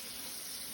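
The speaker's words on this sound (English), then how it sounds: "I use the running water to do the initial clean" Tap water running steadily into a sink to rinse out a plastic feeding syringe, a constant close hiss and splash with no breaks or voices.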